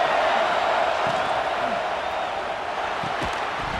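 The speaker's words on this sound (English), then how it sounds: "The roar of the crowd trying to fuel this defense to keep them pinned in their own end." A dense, steady roar from a football stadium crowd at a Maryland versus Oregon college game, loud and continuous throughout with no breaks.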